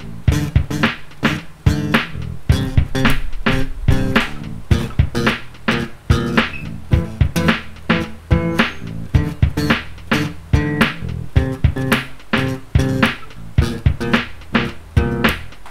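A Squier Precision five-string bass, played on the front pickup with the tone rolled off, gives a steady run of loud, rounded, dull plucked notes in a busy rhythmic line, played alone with no talking.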